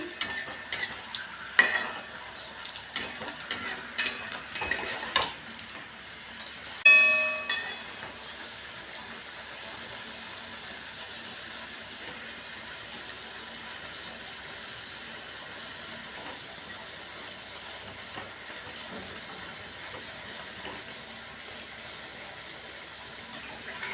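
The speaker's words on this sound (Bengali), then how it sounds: "লুচিটা কিন্তু আমি ভেজে নিচ্ছি" Moong dal luchi frying in hot oil: a few clattering stirs and pan knocks at first give way to a steady, soft, continuous sizzle, with no talk.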